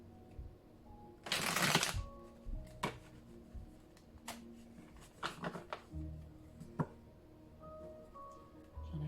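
Tarot cards are shuffled alone in a quiet room: one dense riffling burst, then a series of sharp, separate card slaps and taps spaced a second or so apart, close and fairly soft.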